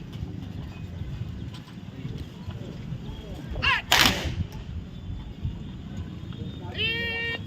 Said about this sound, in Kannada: 3 ಸುತ್ತು ಗಾಳಿಯಲ್ಲಿ ಗುಂಡು ಹಾರಿಸಿ ಯೋಧನಿಗೆ ಅಂತಿಮ ನಮನ ಸಲ್ಲಿಸುತ್ತಿರುವ ಪೊಲೀಸ್ ಇಲಾಖೆ